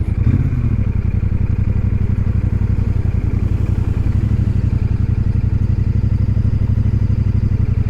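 Royal Enfield Super Meteor 650 motorcycle on a test ride, a loud continuous throbbing twin-cylinder engine thrum at steady pace from the rider's position, with faint clatter over it and no talking.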